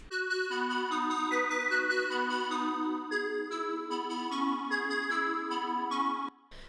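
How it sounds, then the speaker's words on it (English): A synth chorus passes through Logic's arpeggiator on a shuffle setting at a 1/16th rate, giving quick, evenly repeating sustained notes over a low line, steady and unaccompanied before stopping abruptly. "And to this I'm adding this MIDI effects called arpeggiator from Logic."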